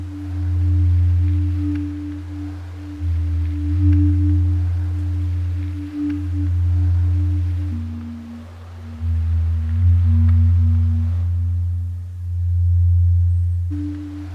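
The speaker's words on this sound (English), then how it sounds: "So if I now play the first 2 layers together, you can already hear this sort of out of sync approach." Two ambient synth layers in Ableton played together out of sync: a deep, swelling low drone that pulses in slow waves beneath a thin, steady higher sine-like tone that shifts pitch slightly, with no voices.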